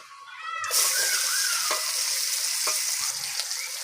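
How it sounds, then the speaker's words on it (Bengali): Chopped onion hits hot oil for an egg curry and fries lightly with a sudden bright, steady sizzle, preceded by a brief pitched whine, with occasional stirring scrapes, close and loud. "পেঁয়াজটাকে হালকা করে ভেজে নেব"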